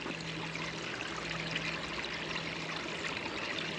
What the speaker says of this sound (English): And the babbling brook is right here.